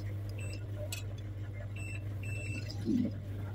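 A multimeter in buzzer mode emits short high beeps, several brief tones in irregular succession over a steady low hum, while probing a shorted, rain-damaged Vivo Y17S phone.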